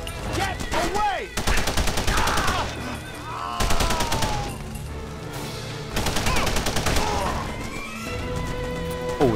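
Rapid bursts of gunfire in The Punisher video game, loud and dense, with repeated volleys crashing over a continuous backdrop of game sound and scattered voice shouts.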